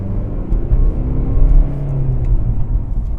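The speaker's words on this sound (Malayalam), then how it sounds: "എസ്പെഷ്യലി നമ്മൾ ത്രോട്ടിൽ കൊടുക്കുമ്പോൾ. അപ്പോൾ ഇതിൽ വന്നിരിക്കുന്നത് ഡീസലാണ്. ഡീസൽ നമുക്കറിയാം കുറച്ച് നോയ്സ് ആയിരിക്കും." The diesel engine of a 2020 Mercedes-Benz CLS rumbles under throttle as heard from the cabin, a loud low drone swelling and easing as the car accelerates, with no voices.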